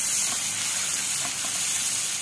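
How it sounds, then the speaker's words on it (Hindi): Garlic-ginger paste sizzles steadily in a hot pan, a bright continuous hiss with faint pops, close and alone with no talking. "लहसुन अदरक के पेस्ट को जब तक भूनेंगे जब तक इसका कच्चापन नहीं निकल जाता।"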